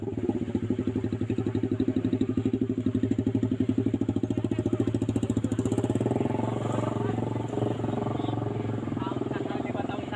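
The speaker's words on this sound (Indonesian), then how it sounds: "ada mobil motor lewat kolong mobil" A motorcycle engine idles and revs at close range with a steady low throb, squeezing along a road blocked by an overturned trailer truck after a traffic accident, continuous for about ten seconds.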